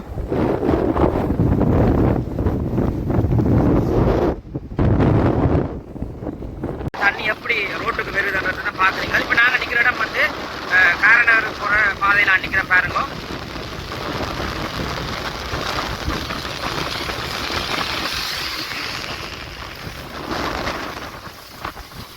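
Strong storm wind roars in loud, gusting blasts against the microphone during a cyclone in Jaffna, Sri Lanka, with rain patter mixed in and a person talking over the noise.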